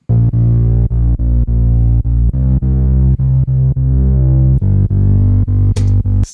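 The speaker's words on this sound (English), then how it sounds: "See, it is ducking out of the way every time it detects something on that key track" A drum-and-bass mix in Pro Tools where a multiband compressor, sidechained to the kick track, ducks the music on every kick hit, giving a steady pumping rhythm of loud, dense beats.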